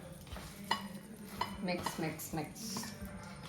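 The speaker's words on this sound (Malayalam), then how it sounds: "മിക്സ് ചെയ്തുകൊണ്ടേ ഇരിക്കുക." Potato cheese ball mixture being stirred in a bowl, giving soft close clinks and scrapes of a utensil against the dish, with faint talking underneath.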